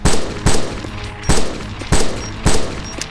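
Gunfire in the ArmA II PMC campaign comes as loud, close, evenly spaced single shots, about six in three seconds, each with a short decaying tail.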